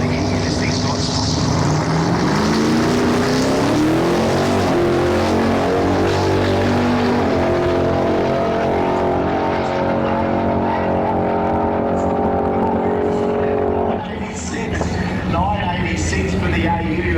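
A turbocharged 6-litre Ford AU wagon at a Street Machine Drag Challenge at Dragway at the Bend roars loudly for the whole stretch, its engine note climbing in pitch, while an announcer talks over it.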